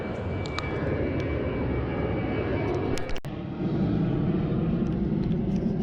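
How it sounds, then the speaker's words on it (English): A fixed-wing airplane passing low overhead near an airport in a Palm Beach County housing area, a loud continuous engine roar and rumble filling the whole stretch with no voices. "every few minutes an airplane flies over you because the airport's right over there"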